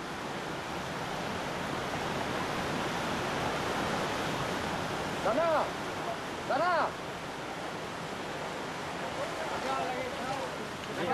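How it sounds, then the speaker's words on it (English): The Skrong river, flooded after a heavy downpour, rushing as a raging torrent in a steady, dense roar of water, with a person shouting briefly over it. "yesterday's downpour has turned the Skrong into a raging torrent."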